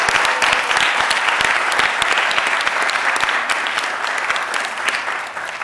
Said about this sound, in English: So first, a round of applause to everybody for being here.